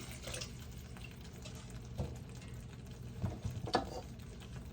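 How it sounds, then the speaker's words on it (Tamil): Water pours into a cooking pan while making crab masala, a soft, steady hiss broken by a few brief splashes and sizzles near the end. No one speaks. "கொஞ்சம் தண்ணி விட்டு கொள்கிறேன்"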